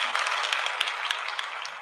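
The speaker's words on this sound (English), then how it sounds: "Oh, I got a hand clap." Several people in an audience at a talk clap briefly, a quick, moderately loud burst of scattered hand claps lasting under two seconds.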